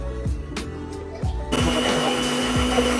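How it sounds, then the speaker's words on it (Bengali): Electric blender running at a kitchen counter, grinding coconut chutney with coriander, mint leaves, curry leaves, green chili and yogurt; a steady, loud motor whir starting mid-way after some preceding knocks and clatter. "এখন ব্লেন্ডার করব আমরা"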